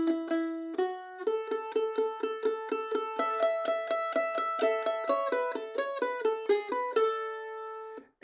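A mandolin plays a steady run of evenly plucked notes with open strings ringing repeatedly, each pick attack crisp and close, alone with no voices over it.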